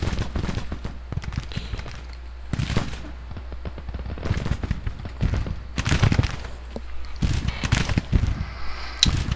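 Repeated gunfire in a Civil War battle game, bursts of musket shots crackling in irregular clusters throughout, loud and close with a steady rumble of battle noise underneath.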